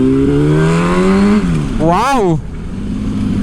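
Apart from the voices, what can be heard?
2008 Yamaha R1 motorcycle engine revving while riding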